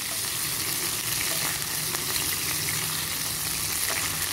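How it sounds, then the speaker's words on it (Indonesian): A mushroom sauce fries in plenty of oil, sputtering and spattering as a loud, continuous sizzle with scattered sharp pops, close up and alone. "ini muncrat-muncrat karena minyaknya banyak ya"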